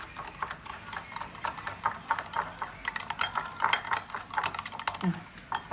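Sugar and salt are stirred into yogurt, heard as quick, uneven clicks and taps of a spoon against the bowl in a busy rhythm, close and fairly clear.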